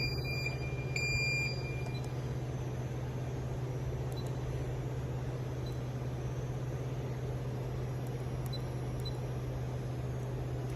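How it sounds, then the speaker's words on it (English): Brief electronic alarm beeping near the start over a steady low hum from a clothes hanger labeling machine, then continuous mechanical drone with faint occasional clicks. "There is alarm and we need to reset the machine."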